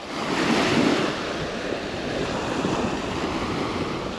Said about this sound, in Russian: Все-таки это Черное море